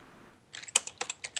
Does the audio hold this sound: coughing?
no